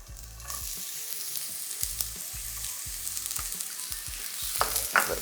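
Onions sautéing in oil in a pan for ackee and saltfish, a steady broadband sizzle with repeated low spoon-and-pan knocks and scrapes at a loose rhythm, close and moderately loud, no talking.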